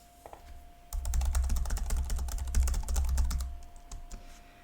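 Steady run of keystrokes on a computer keyboard, close and fairly soft, starting after a brief quiet moment and continuing with dense, quick clicks in a calm indoor setting.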